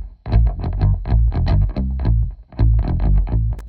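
A bass guitar played with heavy, high-gain distortion through an Engl Fireball amp on its red channel, chugging out thick rhythmic riffs in bursts with a brief pause midway, loud and close with no talking.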